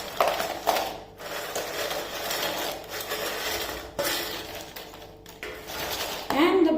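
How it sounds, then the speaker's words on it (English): Homemade crunchy rice-flour nachos tumbling into a bowl of seasoning, a close dry rattling and clattering of chips that comes in repeated bursts with short pauses between them. "Now we are going to add in our nachos to this now."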